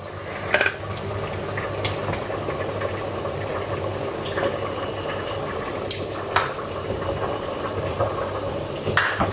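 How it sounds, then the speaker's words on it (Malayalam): Beef boiling in a pot on a kitchen stove gives a steady, close bubbling hiss with a few faint clinks of cookware throughout, and no voices. "നമ്മുടെ ഇപ്പുറത്തെ അടുപ്പില് ബീഫ് നന്നായിട്ട് തിളയ്ക്കുന്നുണ്ട്."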